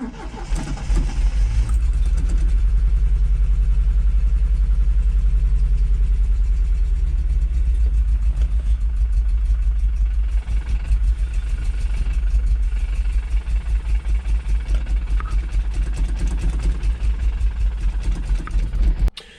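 A Triumph TR7 engine cranks and catches, then runs on choke in a loud, steady, throbbing idle with slight unevenness, heard up close, with no talking.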